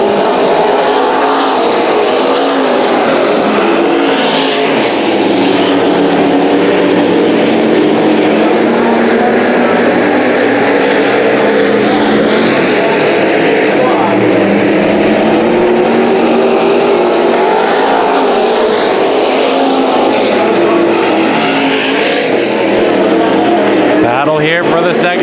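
IMCA stock cars race on a dirt track at Bakersfield, their loud engines roaring continuously as they rise and fall through the straights and corners while a commentator talks over the noise.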